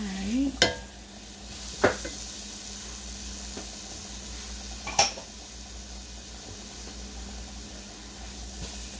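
Food stirred and toasted in a hot pan while cooking Indian-inspired greens and chickpeas: a low steady sizzle with a few sharp scrapes and clinks of a utensil against the pan, close by and without talk.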